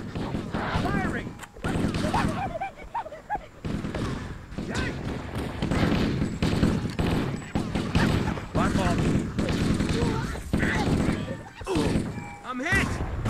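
Gunfire in Halo CE crackles in irregular bursts and thuds throughout, mixed with game effects and people talking over it.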